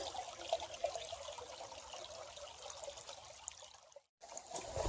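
A small creek trickles quietly, giving a faint continuous babble of water with small splashy ripples and a brief dropout near the end, with no one talking.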